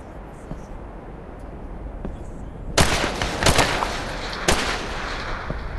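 Gunfire in the VR shooter Tactical Assault VR: after a stretch of low background noise, several loud, close gunshot bursts arrive in quick succession, with speech during the clip.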